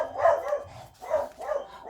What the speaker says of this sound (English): It was a courier, and the dog was going mad.